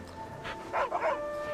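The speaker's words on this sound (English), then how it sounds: "Dog." A dog in the video game AFK Fishing gives a few short, soft yips or whimpers in quick succession, faint against a quiet tonal game background, with no talking.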